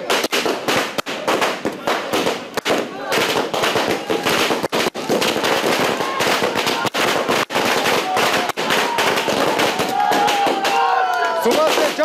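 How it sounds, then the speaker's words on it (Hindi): Firecrackers crackle and pop in dense, rapid bursts outside a BJP party office as workers celebrate the Bihar election win, loud and continuous, with crowd noise and voices mixed underneath. "के कार्यकर्ता जोरदार आतिशबाजी कर रहे हैं।"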